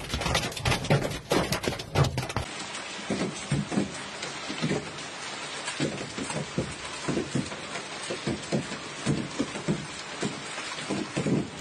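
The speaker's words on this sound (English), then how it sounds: "Large hailstones hit Verona and Vicenza," Large hail and heavy rain pelt down during a severe thunderstorm in the Verona and Vicenza area of Italy, a dense, continuous clatter of impacts with rhythmic louder bursts throughout, close and steady with no voices.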